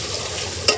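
Potatoes frying in hot oil with bay leaf and cumin, a short burst of sizzling and stirring with one sharp clink of a utensil against the pan near the end.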